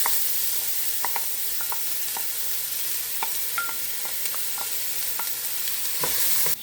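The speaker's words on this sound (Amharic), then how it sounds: "ሽንኩርቱን ከዘይቱ ጋር ትንሽ እናበስለዋለን።" One chopped red onion fries in a spoonful of olive oil, giving a constant close sizzle with scattered crackles and pops throughout, a stirring scrape near the end.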